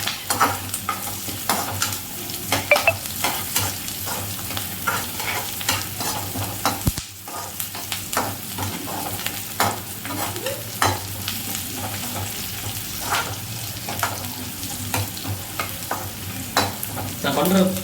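Onions for mushroom manchurian sauté in a pan with a steady, close sizzle and a dense run of spoon scrapes and clinks, briefly dipping near the middle before the stirring carries on.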